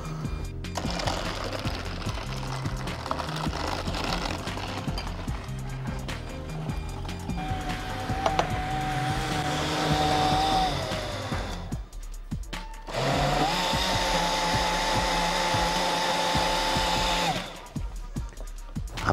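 An electric blender whirs through a peach and strawberry cocktail in two long runs, its motor whine holding steady then dropping out briefly before starting again and stopping.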